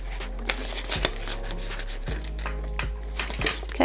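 Paper cash bills rustle and flick as they are counted and slipped into budget envelopes, a close, irregular series of crisp shuffles and soft taps with a low background hum.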